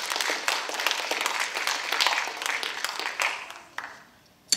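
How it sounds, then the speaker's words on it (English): Applause for cadets at a JROTC national awards ceremony, a steady crowd clapping that fades toward the end, with a last sharp clap. "One more round of applause for these cadets."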